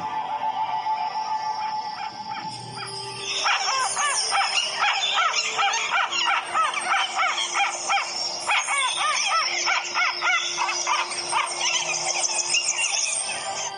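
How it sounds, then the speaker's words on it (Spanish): A Cauca guan calls in a forest setting with clear water and many birds, a rapid run of repeated harsh, squealing notes that starts after a quiet moment and carries on steadily at moderate distance. "¿Esa es una pava caucana? O eso creo. Lindo su canto, ¿no?"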